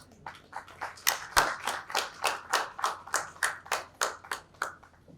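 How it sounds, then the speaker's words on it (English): Sparse audience applause welcoming a guest at a business awards ceremony in Bhopal, distinct individual claps in a fairly steady rhythm, moderately quiet, with one louder clap early on. "with a huge round of applause, please welcome Mr. Amit Kumar Jain."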